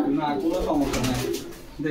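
Pigeons cooing at a pigeon market in Bogura, Bangladesh, with low repeated coos close by under ongoing talk from nearby people.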